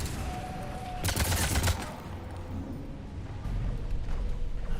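Rapid gunfire from the video game Mass Effect 3 during a fight against husks, a dense burst of shots rattling over steady game noise, then a quieter stretch of background combat sound.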